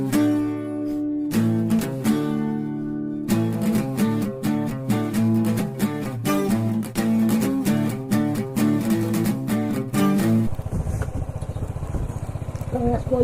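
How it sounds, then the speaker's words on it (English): Moto Guzzi V7 II 750 motorcycle running: a steady, pulsing engine drone with harmonic tones that shift in pitch every few seconds as the revs change, ending in rough, broadband rushing noise. "I am riding his wife's Moto Guzzi"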